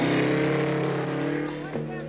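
A Kawasaki Z1 motorcycle engine drones loud and steady at the start of a 24-hour record run at Daytona in 1973, the pitch shifting briefly near the end, with a voice talking over it.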